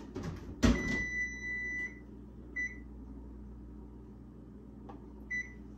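An oven timer is set for 20 minutes: a door thuds shut, then a few short electronic beeps sound with quiet gaps, over a low steady hum.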